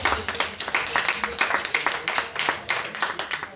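Conference audience clapping at a French talk on family, heredity and dysfunction: steady, moderately close rhythmic applause from a modest crowd lasting a few seconds.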